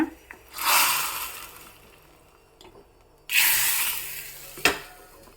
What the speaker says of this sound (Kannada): ಈಗ ಕುದೀತಾ ಇರೋ ಸಾರಿಗೆ ಒಗ್ಗರಣೆನ ಹಾಕ್ಕೊಳ್ಳೋಣ